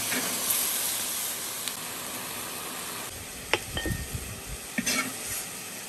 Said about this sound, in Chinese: 搅一搅就可以出锅了。